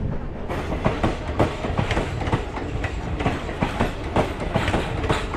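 A crowded moving passenger train running from Bhagalpur to Anand Vihar rumbles loudly, with steady rhythmic clickety-clack of wheels over rail joints, heard up close from on board with no talking.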